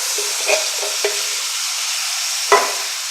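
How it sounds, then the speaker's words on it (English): Garlic and canned diced tomatoes cooking in a pot for crawfish Creole, an even soft sizzle with a few light spoon clinks from stirring, one louder scrape near the end. "Give that a stir."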